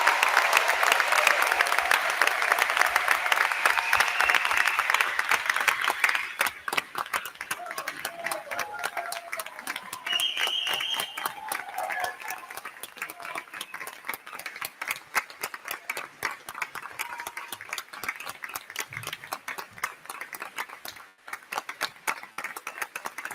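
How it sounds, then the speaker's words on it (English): A school board meeting audience applauds a retiring teacher, steady hall-wide clapping that starts full and loud, then thins into scattered, fading claps over a long stretch, with faint voices mixed in. "let's just give Mr. Sundell a round of applause for a remarkable career"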